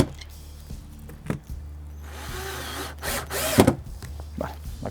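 A power drill drives a screw through a metal hanging plate during roe deer skull taxidermy mounting, one short buzzing burst of the motor under a steady background hum, with a few knocks before and after.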